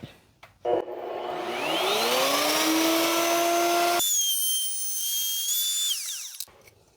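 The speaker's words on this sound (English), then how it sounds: "clamp it down and cut it." A power saw cuts chamfers on a workpiece clamped in a jig or sled, spinning up with a rising whine, cutting steadily for several seconds, then winding down alone at close range.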